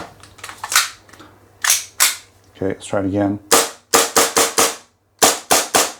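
Tokyo Marui Strike Warrior .45 1911 gas blowback airsoft pistol firing on a tabletop: a rapid string of sharp, close cracks in irregular bursts, with a brief spoken line near the start.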